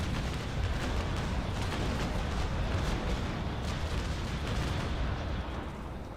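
A naval cannon broadside in the game Naval Action, a continuous low rumbling roar of rolling booms and bursts, dense and sustained, fairly distant and muffled.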